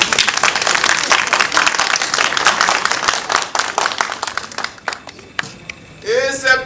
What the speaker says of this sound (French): Et c'est comme cela qu'on m'applaudit.